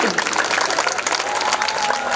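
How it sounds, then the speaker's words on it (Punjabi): Stage-show audience applauding a guest at a Punjabi music event, a dense, steady wash of clapping that fills the whole span, with a faint voice or tone running underneath. "ਇੱਕ ਵਾਰੀ ਜ਼ੋਰਦਾਰ ਤਾੜੀਆਂ ਰਹਿਮਤ ਸਾਹਿਬ ਵਾਸਤੇ"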